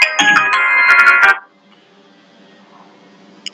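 A phone ringtone plays an incoming-call melody, loud and close, in bright rhythmic tones for about a second and a half before cutting off, leaving a quiet room hum.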